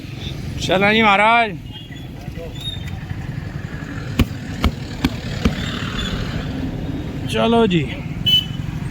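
Motorcycle ride through town traffic, a steady engine drone under the rider's voice, with a brief honking horn near the start, several sharp clicks and knocks, and another horn-like toot later.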